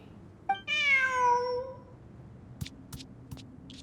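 A single drawn-out cat meow in a video game, clear and close, followed by a few light clicks and taps.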